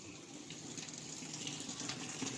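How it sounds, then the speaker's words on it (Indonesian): Water gushing from a leaking washing machine drain line, a steady hissing rush of flowing water, close and continuous with no voices. "lalu keluar air seperti ini ya"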